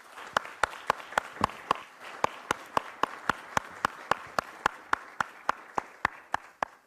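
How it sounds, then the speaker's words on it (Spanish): Slow, evenly spaced claps, roughly three per second, ring out clearly and close after a lecture in a university lecture series, with faint background murmur and no talking. "Fuerte aplauso, por favor."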